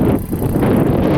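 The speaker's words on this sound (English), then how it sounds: "Windy day," Strong wind buffets the microphone beside a pond on a blustery day, a loud continuous roaring rumble with gusty swells and no voices.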